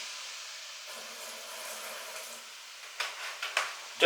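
A soft, steady hiss and fizz of vinegar poured into a floor waste drain, close by, with a few louder bursts toward the end.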